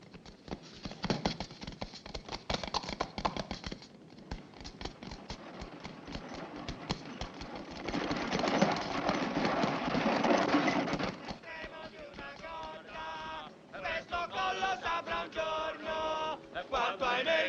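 Several horses ride off at a trot in a 1964 Italian period adventure film, their hooves giving busy, overlapping clip-clop beats under music and commotion, shifting as the riders move away.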